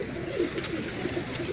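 A pigeon of the Ali breed coos in soft, repeated low murmurs close by, a steady rolling pattern of short pulses with no talk.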